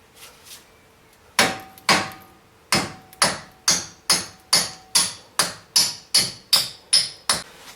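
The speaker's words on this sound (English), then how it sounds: "use a hammer and drive the axle out of the wheel hub assembly" Hammer striking a socket to drive the CV axle out of the wheel hub on a Civic EK, a dozen sharp metallic blows, a few spaced apart, then a steady faster rhythm, loud and close.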